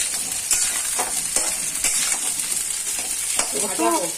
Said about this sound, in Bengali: লাল লাল করে ফ্রাই করবি তো ভাজা করতে হবে